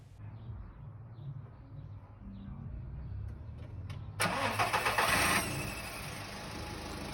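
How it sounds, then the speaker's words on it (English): A cold VW Polo MK4 petrol engine cranks and fires after a few quiet seconds with faint birds in the background. It then settles into a rough, loud, diesel-like idle close by. "VWs with petrol engines tend to sound like tractors or diesel engines when they are cold, so don't mind the sound."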